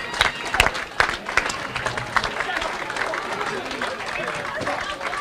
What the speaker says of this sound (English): Spectators, let's give the following teams a round of applause for their performance this week.